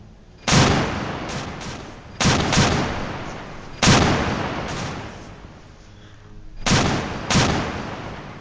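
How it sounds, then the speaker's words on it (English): Naval guns fire a salvo of shells at an enemy ship in the Victory at Sea Atlantic game, with five or six loud, booming blasts at irregular intervals. Each blast rumbles and fades before the next. "we're basically just raking the ship with shrapnel"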